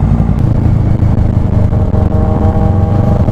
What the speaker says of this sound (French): Ah la voiture.